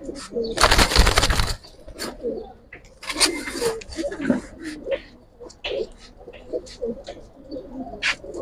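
Racing pigeons at a loft in Islambagh, Old Dhaka, cooing in low rolling bursts alongside scattered chirps, with two loud rushes of flapping wings early on, close by.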